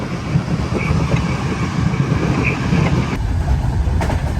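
Inside a third-class train carriage near Vienna, with a window open, a continuous loud rumble of wheels on rails carries faint rhythmic clicks throughout.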